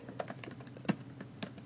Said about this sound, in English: Can you hear me while I'm typing on my computer?